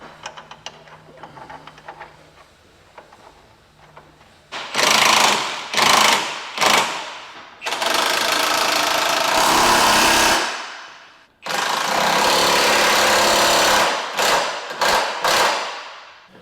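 An impact wrench hammers a bolt tight while a 3-inch HRG Offroad lift kit goes onto a 2001-06 Acura MDX. Loud, close rattling bursts come in short pulses and longer runs, with two long stretches and a few final quick hits.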